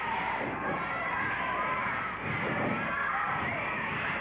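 Wrestling crowd at the Portland Sports Arena, a dense, steady murmur of many voices filling the hall, with no single shout standing out.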